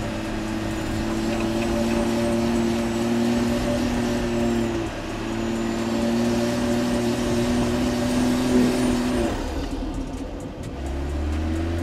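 BMW X5 SUV in sport mode with air suspension raised, climbing over an improvised step with its rear wheels; a steady engine drone under load, holding a sustained tone, then dropping and easing off near the end.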